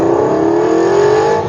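An Aston Martin V8 Vantage GT engine revs loud and close on a road test, a steady rising drone that climbs smoothly in pitch with no voices over it.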